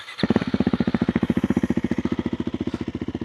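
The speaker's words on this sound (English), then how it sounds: "Let's just quickly hear the bike and then get going." A KTM 390 Adventure R motorcycle fitted with a Norifumi Whoops aftermarket exhaust and dB killer starts up and settles into a loud, close, evenly thumping single-cylinder idle with a slight blip near the start.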